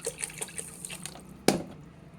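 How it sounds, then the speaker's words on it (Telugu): Water trickles and drips over soaking sago and rice in a kitchen, with small splashes throughout and one sharper pour or splash near the end. "అదే కొలతతో ఒక గ్లాస్ బియ్యం కూడా తీసుకుని 2 గంటలు ఇది కూడా నీళ్ళు పోసి నానబెట్టుకోవాలి."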